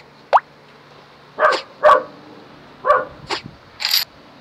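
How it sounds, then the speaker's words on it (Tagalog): A dog barks five or six times in irregular bursts, close and fairly loud, with short yips among the barks. "Palagi ang background ng ano ko, tumatahol yung aso."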